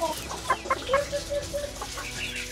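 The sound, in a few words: fighting rooster (gamecock) crowing and clucking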